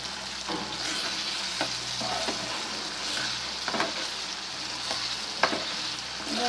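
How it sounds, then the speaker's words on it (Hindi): Aloe vera sabzi fries in a pan with a soft, continuous sizzle. Spatula scrapes and stirring knocks repeat at irregular intervals, close by and fairly quiet, with no talking. "तकरीबन 3 से 4 मिनट हम इसको मज़ीद भूनते हैं।"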